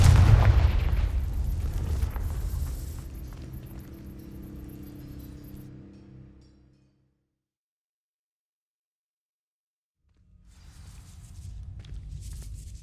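A Confringo fire spell ignites dry vines in Hogwarts Legacy with a heavy boom. A roaring burn follows and fades over several seconds, then silence, and a low rumble returns near the end.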